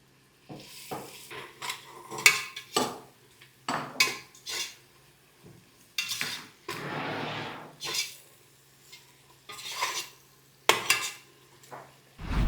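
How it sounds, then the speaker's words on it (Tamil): Tomatoes softening in a pan of chicken biryani with a little salt, heard as a run of scattered clinks, scrapes and stirs of a spoon against the pan plus a brief stretch of soft sizzle, no talk. "இப்போது தக்காளி நல்லா வதங்கிருச்சு இந்த மாதிரி."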